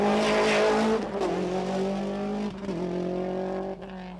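A rear-wheel drive Ford Sierra rally car racing on a 1994 Rally of the Lakes stage, its engine roaring loud and close with a steady harmonic drone, shifting pitch as it changes gear, with brief tyre scrabble between.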